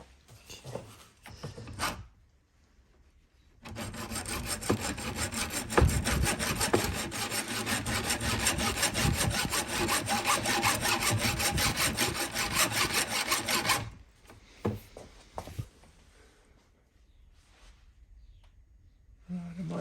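Hacksaw rasping steadily through a 1:18 scale Holden Monaro model car, a long run of close, loud back-and-forth strokes with brief pauses and handling noises before and after.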